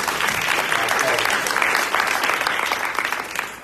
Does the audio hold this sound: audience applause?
yes